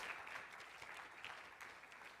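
Applause from an audience for a group of women singers at an awards event, a soft, steady, distant-sounding patter of many hands.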